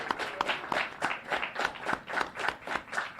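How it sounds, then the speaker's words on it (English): Audience applause at a trivia contest awards ceremony, a steady patter of many hands clapping with rhythmic swells, fairly close and filling the room, with no talk over it. "Big round of applause for them, please"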